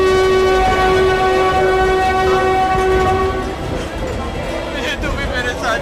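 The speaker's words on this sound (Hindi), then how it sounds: "मुंबई जाने के लिए जोधपुर मुंबई एक्सप्रेस ट्रेन चलने वाली है।" An Indian Railways Jodhpur–Mumbai Express sounds a long, loud, steady horn, followed by rumbling carriages. A voice talks over the train near the end.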